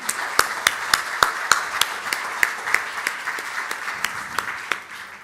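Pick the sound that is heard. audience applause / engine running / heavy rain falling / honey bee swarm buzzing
audience applause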